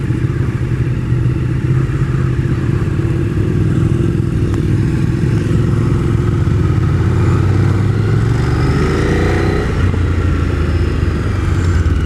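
A Ducati 848 Streetfighter naked bike under way, its engine droning steadily with rising and falling revs and wind rush, mechanical clatter underneath, heard up close from the rider's position.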